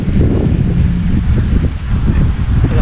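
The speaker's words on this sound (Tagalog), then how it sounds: "Napakalakas ang hangin." Loud, steady wind buffeting the microphone in Muntaza Park, Doha, Qatar, a constant low roar with gusty swells and no voices.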